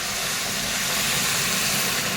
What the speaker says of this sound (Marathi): हे गरम केलेलं पाणी आहे ते मी घालते